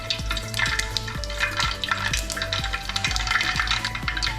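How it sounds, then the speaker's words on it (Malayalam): Mustard seeds and fenugreek frying in hot oil in an uruli, a steady close sizzle with sharp popping crackles scattered throughout, continuous and fairly loud with no talking. "എണ്ണ ഉരുളിയിൽ ഒഴിച്ച് കൊടുത്തിട്ട് ചൂടായിട്ടുണ്ട്. കുറച്ച് കടുക് ഇട്ട് കൊടുക്കുക."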